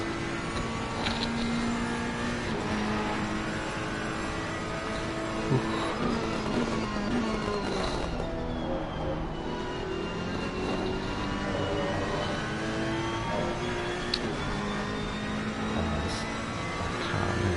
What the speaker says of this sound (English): leading in the extremely loud McLaren is the legend Jay Moore